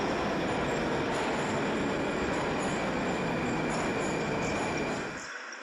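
A Moscow metro train rolls through an underground station with a loud, steady rumble of wheels on rail and a high metallic squeal running throughout, cutting off near the end as it stops.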